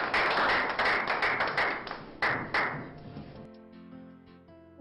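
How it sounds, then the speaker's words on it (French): Applause at a French dinner gathering, many hands clapping densely and loudly at first, then thinning into scattered claps as it fades out. "Vos applaudissements, s'il vous plaît."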